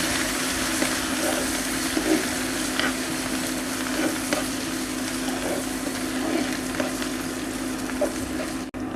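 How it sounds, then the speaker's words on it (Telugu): Steady sizzling of tempering spices and coriander frying in hot oil, a continuous crackle with occasional soft stirring clicks. "ఇప్పుడు తాలింపు అంతటిని బాగా వేయించుకోవాలి"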